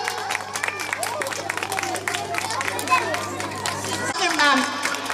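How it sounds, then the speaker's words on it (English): Audience applause at an annual school megashowcase award ceremony, steady dense clapping mixed with crowd chatter and voices, continuing for several seconds with a brief shift near the end. "Please clap for him."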